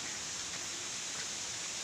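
Continuous hiss of light rain and strong rushing wind in the countryside, a dense, even noise with no pauses or voices.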